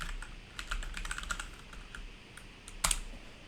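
Quick bursts of typing on a computer keyboard, close and fairly quiet, with a rapid clatter of keys early on, a pause, then a sharper cluster of strokes near the end.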